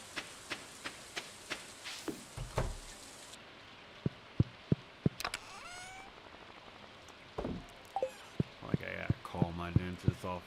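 Rain falls steadily in a farming video game, its soft patter running under sharp clicks, in-game sound effects and a speaking voice.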